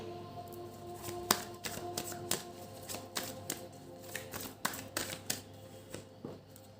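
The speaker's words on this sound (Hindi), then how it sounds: "मेरी कार्ड्स शफल होते होते अपने आप में ही उलट पुलट हो जाते हैं" Tarot cards being shuffled by hand, a run of crisp riffling taps and flicks coming in quick irregular bursts, close and fairly quiet over a low steady hum, with no talking.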